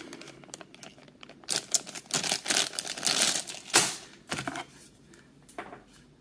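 Dice shaken about in a black drawstring bag from the Tekhenu board game, a close clattering rattle in irregular bursts of clicks and rustles, louder in the middle and fading toward the end.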